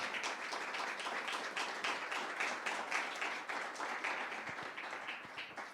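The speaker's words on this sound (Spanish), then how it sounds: "dele el aplauso al Señor, hermano" A church congregation claps in praise to the Lord, a full, sustained round of applause from many hands, fairly distant and even, with a loose pulsing rhythm and no voices on top.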